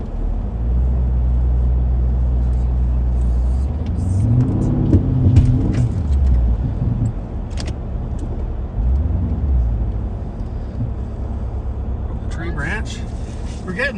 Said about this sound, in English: Looks like there's a car turning around